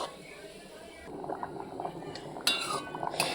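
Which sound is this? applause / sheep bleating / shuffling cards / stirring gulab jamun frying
stirring gulab jamun frying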